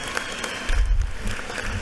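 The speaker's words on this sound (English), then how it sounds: "give her a big round of applause" A brief burst of applause in a state House legislative chamber as members stand to honor a guest: dense, steady clapping across a large room, swelling with a low rumble midway.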